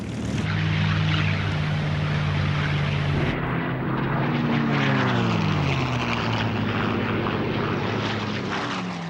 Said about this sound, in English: 450 fighters were scrambled to intercept the Japanese planes